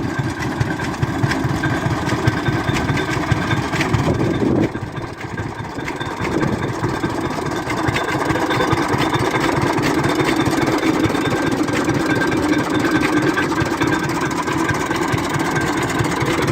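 A vintage Rumley tractor engine runs loud and close at a steam show, a steady rhythmic chugging drone with a brief dip partway through before it resumes.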